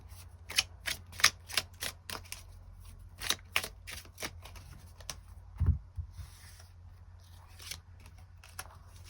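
Tarot cards are shuffled and drawn: a quiet run of crisp, rapid snapping flicks, then a soft thump as a card is set down, followed by a few more light flicks, with no talking.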